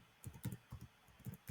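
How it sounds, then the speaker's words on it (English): Quick soft keystrokes tap on a computer keyboard as a web address is entered, a short irregular run of faint clicks close to the microphone with no talking. "So I am going to type a URL shortener like tiny"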